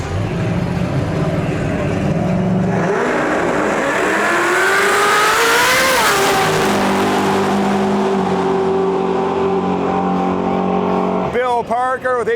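A daily-driven street car launches down a drag strip in a true street class race, its engine revving and climbing in pitch as it pulls away, loud throughout, with crowd noise underneath and a brief voice near the end.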